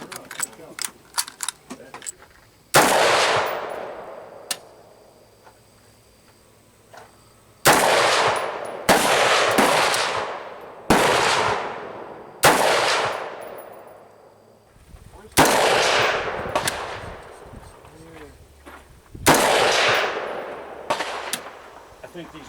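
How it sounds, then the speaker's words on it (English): Loud gunshots ring out in a series of separate reports, each with a long echoing tail, over roughly twenty seconds. A few fainter pops come first, and voices talk between the shots. "It's about 20 rounds, just continuous right into that same hole pretty much."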